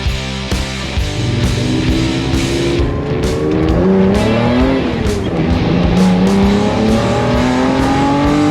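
A 1974 Datsun 240K Kermeri GTR tribute with a 300-plus horsepower L Series six roars loudly and continuously, its engine note climbing and falling through repeated revs and gear changes.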